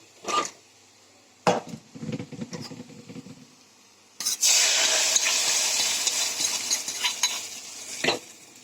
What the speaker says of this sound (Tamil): இப்போ தாளிச்சு போட்டுக்கலாம்.